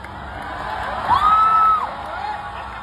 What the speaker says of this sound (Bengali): একটা জোরে হাততালি হোক ওর জন্য